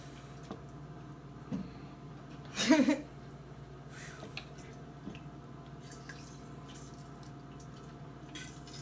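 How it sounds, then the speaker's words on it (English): Lemon juice, about one and a half lemons, squeezed by hand into homemade hummus, heard as one brief, wet squish with a few small drips against a quiet, faintly humming background. "I'm like squeezing in the lemon juice"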